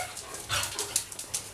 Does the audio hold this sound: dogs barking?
yes